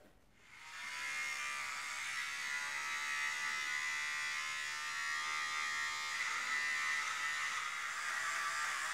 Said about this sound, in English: You can hear the clippers really struggling